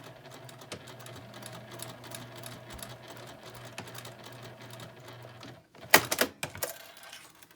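A sewing machine whirs in a fast, steady rhythm while stitching a lip balm key fob with a narrow presser foot near metal hardware. The stitching stops abruptly, followed by a few sharp clicks and handling clatter.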